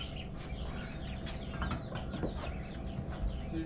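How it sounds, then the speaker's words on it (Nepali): Local chickens cluck steadily at close range on a farm, their calls layered over a constant busy background with no talk. "यहाँदेखि हामी जान्छ चल्ला यो चाहिँ लोकल चल्ला"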